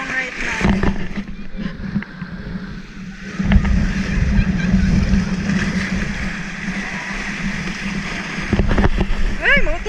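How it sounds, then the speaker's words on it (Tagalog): Strong sea waves crash and wash along a Philippine shore during Super Typhoon Rolly, a loud, continuous roar with surges and wind, while people talk close by. "the waves are really strong right now"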